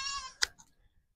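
A single short, bright bleat from a goat, close by, following a brief tonal voice-like sound, then quiet rustling.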